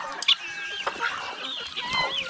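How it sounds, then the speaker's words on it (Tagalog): Chickens clucking close by on a farm where roosters are also kept, a busy overlapping run of short clucks and squawks, with no talk. "Marami na po yung mga dubalaga natin manok dito."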